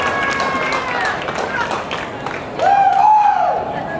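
Crowd at a women's club rugby match cheers and applauds after a try, a broad wash of voices and clapping at moderate distance, with a sharper shout rising near the end.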